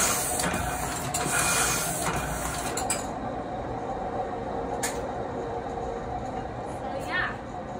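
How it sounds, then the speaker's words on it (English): A 1958 Heidelberg windmill platen printing press, large and fully automated, runs with steady rhythmic clanking and mechanical whirring, punctuated by sharper clacks, while a person talks over it. "It's a platen press too, but it's just a big behemoth of a press. It's fully automated."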